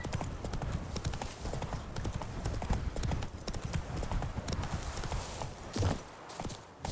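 Hooves of Roach, a horse in the video game Witcher 3, gallop in a fast, continuous clip-clop rhythm, close and steady throughout, with a brief whinny-like accent near the end.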